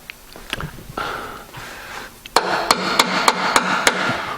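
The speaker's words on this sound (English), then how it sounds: "let's go get a hammer" A hammer strikes repeatedly while cooling parts are fitted on a Mustang, about eight sharp, evenly spaced metallic blows following softer handling noises and shuffling, close and loud.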